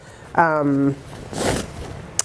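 A zipper on the outside of a knitting project bag is pulled once, a brief scratchy rasp that comes right after a short voiced sound, followed by a faint click.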